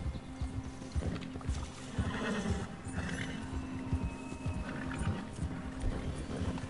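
A horse in the video game Red Dead Redemption 2 Online gives a whinnying neigh over steady clip-clopping hooves, close and moderately loud, with faint background game sounds.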